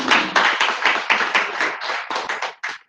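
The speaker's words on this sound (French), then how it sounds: "Vous applaudissez pour nous le professeur Célimène." Audience applause for Professor Célimène at a university science lecture: close, fairly sparse clapping with distinct individual claps in an uneven rhythm, loud and alone, thinning toward the end.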